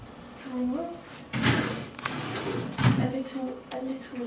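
Hotel room drawers slide open and shut, giving a couple of distinct wooden thuds and scrapes at close range while a person talks over them.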